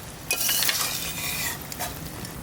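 Sonabogo river fish pieces go into a village-style curry broth in a pan, giving a clattering splash and then a bubbling, sizzling hiss with a few utensil clinks, loud and close, without talk.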